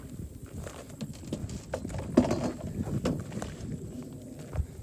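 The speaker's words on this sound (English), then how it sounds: "James, why are you paddling in a mud hole?" A canoe is paddled through a mud hole outdoors, with soft irregular splashing and sloshing strokes over wind noise, fairly quiet and close.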